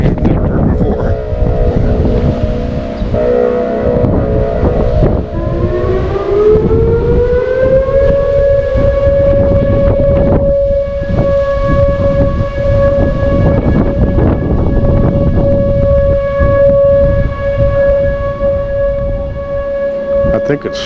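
A warning siren winds up from a low growl into a long, steady high wail, heard over strong wind rumble and gusts during Typhoon Mawar on Guam.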